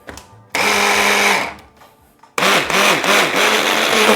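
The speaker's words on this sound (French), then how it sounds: "Et on mixe un peu nos lentilles." An electric blender pulses through cooked lentils for Indian-style lentil balls in two loud, close bursts with a short pause between them, the motor's pitch dipping and rising rhythmically in the second burst.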